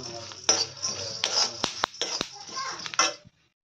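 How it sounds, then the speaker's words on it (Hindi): Black soybeans roast in a kadhai for a Pahadi dish, giving off a series of sharp, irregular crackles and pops along with scraping pan sounds, close by and amid some talking. "अरे अब आवाज देने लग गए चट चट के"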